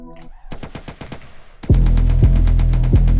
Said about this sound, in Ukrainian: Я по ньому почав стріляти.